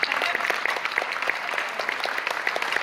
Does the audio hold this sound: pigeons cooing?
no